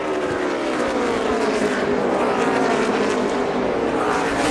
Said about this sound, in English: Kyle Busch is going to pass him for the lead